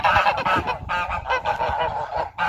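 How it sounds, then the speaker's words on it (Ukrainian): Geese and goslings honking outdoors on a frosty winter farmyard, a close, loud cluster of overlapping honks and cackles in quick bursts with short gaps between them. "Гусики вийшли."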